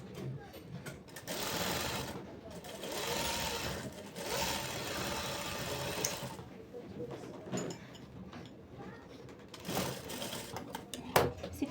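A sewing machine runs in long continuous bursts, double-stitching a sixteen-panel one-piece frock, with short pauses between runs and a voice talking at times.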